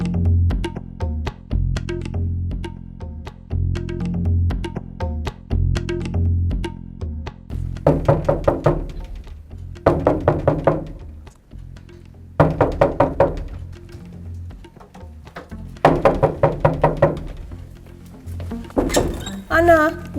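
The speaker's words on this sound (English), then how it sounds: "why are you knocking down my door?" Heavy knocking pounds on a door in repeated bursts of loud, hard thuds, separated by brief pauses and growing more insistent.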